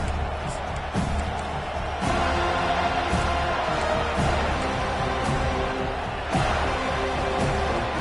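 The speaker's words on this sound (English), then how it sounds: "This crowd trying to make life miserable for this offense." A football stadium crowd roaring steadily throughout, a loud continuous wash of noise with surges and thumps, a commentator's voice under it.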